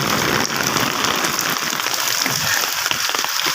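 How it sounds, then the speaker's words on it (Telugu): Heavy rain falls at night in Hyderabad during a thunderstorm, a dense steady hiss of drops pounding surfaces, loud and continuous throughout. "ఉరుములు మెరుపులతో కురుస్తుంది వర్షం, మరి బీభత్సం"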